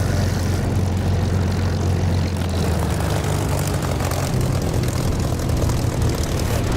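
Spitfire piston engine in the DCS flight simulator taxiing toward the runway, a steady, loud, close propeller drone with a strong low rumble that holds throughout.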